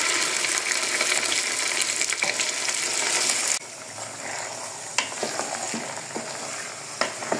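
Marinated beef tipped into onions already fried red in hot oil, with cabbage to follow, sizzles hard at first. The frying then quiets into a softer crackle broken by a few sharp stirring clatters of the spoon.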